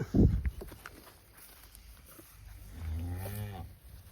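Cattle at a cow sale on a farm, with a loud low moo rising near the end after a brief thump and quiet shuffling, no talk.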